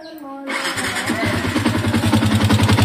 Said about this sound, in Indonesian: Kita hidupin dulu motornya.